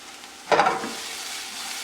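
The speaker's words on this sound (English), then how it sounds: "what we want to do now is pretty much go in with some diced onion" Diced small onion hits a hot pan for Caribbean curry shrimp, bursting into a sudden loud sizzle that settles into a softer, steady hiss.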